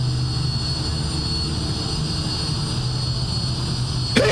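A jet aircraft engine roaring steadily during takeoff from runway 33 in a flight simulator game, a loud continuous whine and rumble with a high tonal hum, ending in a brief click.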